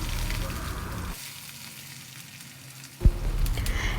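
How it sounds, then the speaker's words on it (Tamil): Chopped onion goes into hot oil with tempering spices and fried peanuts for red poha upma. Steady sizzling drops away for a moment, then bursts back loudly. "பொடியை நறுக்குன்னு வெங்காயம் சேர்த்துருக்கேன்."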